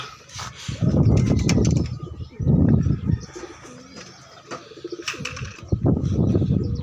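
Birds coo in low, soft bursts close by, several rounds of throaty cooing with faint chirps and rustling between them.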